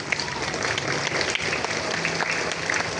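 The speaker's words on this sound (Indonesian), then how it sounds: "Mari sama-sama kita tepuk tangan untuk kita semuanya." A crowd claps together at a Monday morning school flag ceremony, a dense burst of steady applause that holds throughout with no pause.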